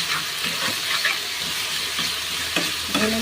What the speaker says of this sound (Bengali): এবার আমি এর মধ্যে একটু মিষ্টি দিয়ে দেব দিয়ে মশলাটা ভালো করে কষিয়ে নেব